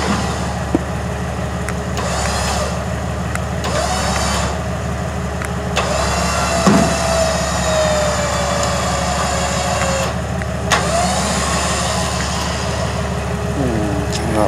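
A Jeep engine runs with a steady low rumble throughout a bumper side pull test at the beach, holding a constant drone with only slight variation.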